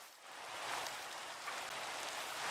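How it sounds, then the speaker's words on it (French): Rain falling steadily in the Minecraft video game, a soft continuous hiss of drops that holds an even level throughout with no talk over it. "Bon, certes, il pleut."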